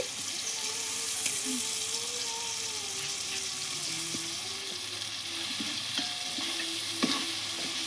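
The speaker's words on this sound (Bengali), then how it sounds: "এবার আমি দিয়ে দেবো মটরশুঁটি টমেটোর সঙ্গে সামান্য একটু ভেজে নেব" Peas and tomatoes fry in a pan with a continuous close sizzle, broken by a few light clicks and scrapes as the spatula stirs them.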